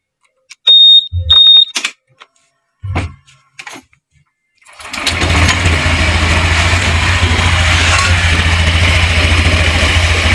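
A Honda Scoopy 2021 scooter engine starts after a few short electronic beeps, then settles into a steady, loud idle hum that runs unbroken for the remaining seconds.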